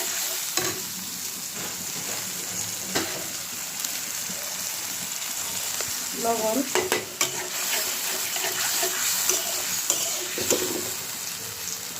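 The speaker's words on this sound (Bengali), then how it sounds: "তো মশলাটা একটু ভাজা হোক" Turmeric and chili powder fry in a pan as the cook stirs them, a continuous soft sizzle with occasional scraping and clinks, and one word spoken briefly.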